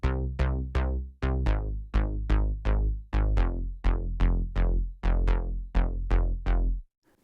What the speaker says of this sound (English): And so it sounds like this with my sub bass.